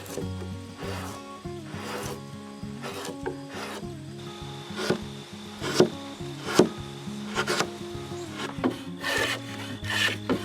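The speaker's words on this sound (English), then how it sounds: "Each surface is shaped and refined by hand to ensure a true, clean fit." Hand tools scrape and rub across a wooden scissor truss joint surface, irregular strokes and taps close by at moderate volume, with no talking.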